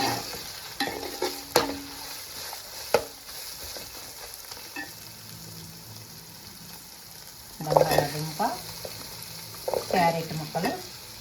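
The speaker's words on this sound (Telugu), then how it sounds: "టమాటా వేసేసాను ఇప్పుడు ఇవన్నీ కొంచెం ఫ్రై చేసుకున్నాం ఇప్పుడు ఆయిల్లో" Mixed vegetables and tomato fry in oil for a vegetable biryani, with a steady close sizzle and clattering bursts of stirring and scraping in the pan that grow louder near the end.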